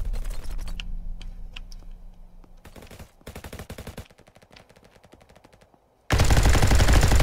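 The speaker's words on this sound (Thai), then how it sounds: "ยิงไม่แม่นเลยอ่ะเอ้ยยิงไม่โดนใครเลย" Rapid gunfire bursts from the Roblox shooter RF Legacy crackle in quick clusters, broken by short gaps and a quieter stretch before a loud burst of noise at the end; no one speaks over it.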